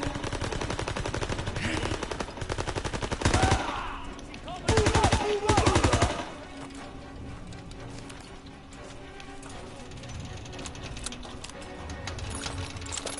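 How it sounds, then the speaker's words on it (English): Rapid machine gun fire in a video game, a steady stream of fast clattering shots with two louder bursts early on, then quieter continued fire and game noise. "I don't like machine guns like that, but I will use them in this situation."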